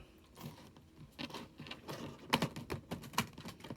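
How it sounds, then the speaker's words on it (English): Large tarot cards being shuffled by hand, a run of soft papery riffles and taps that grows sharper and louder toward the end, close by with no talking. "I'm not the best at shuffling these big cards."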